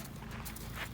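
Horse hooves clip-clop in a steady walking rhythm at a riding area, faint and fairly close, with a low rumble underneath and no speech.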